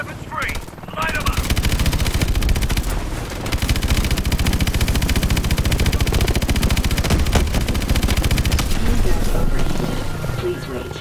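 Rapid automatic gunfire from Call of Duty Advanced Warfare rattles almost without a break, loud and close, with a short gap early and radio-style voices underneath.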